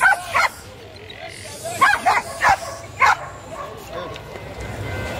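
Dogs bark in short sharp bursts at an outdoor weekly dog market, several yaps spaced over a few seconds, heard over a busy crowd murmur and a steady low background rumble.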